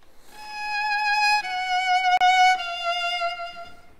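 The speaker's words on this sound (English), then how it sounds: "So the viola plays the descending scalar melody," Viola playing a descending scalar melody alone, a few sustained bowed notes stepping downward with a slight bump partway through, clear and close, with no other instruments evident.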